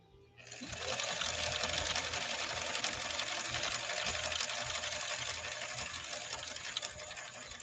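A 1965 Viking Husqvarna 2000 sewing machine with a Schmetz needle runs a decorative stitch. It starts up, then gives a steady, loud, close mechanical whir with a fast, even needle chatter that holds for several seconds.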